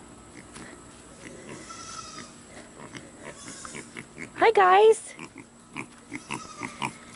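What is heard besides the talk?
micro pigs grunting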